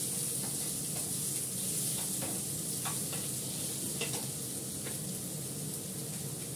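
Potatoes, about half a batch, fry in a pan of hot oil with a steady, dense sizzle and hiss. Soft stirring scrapes and clicks sound at irregular moments, fairly close and without talk.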